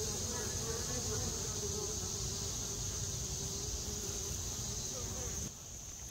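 Honeybees buzz steadily and loudly at the entrance of a backyard hive while foragers carry in pollen, a dense continuous drone close by that fades slightly near the end.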